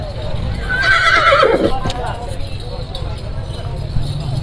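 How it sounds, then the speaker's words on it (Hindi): A horse neighs loudly and close by with a rising and falling whinny, over a steady outdoor background rumble. "यह जानवर है यह घोड़ा है जी"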